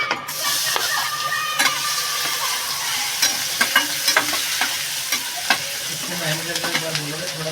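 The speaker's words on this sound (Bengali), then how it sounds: "তেল দিয়ে দেবো একটু দিয়ে দেবো রসুন" Garlic frying in a little oil while making Bengali shaak paratha, a loud, steady sizzle broken by repeated sharp scrapes and clicks of a spatula stirring in the pan.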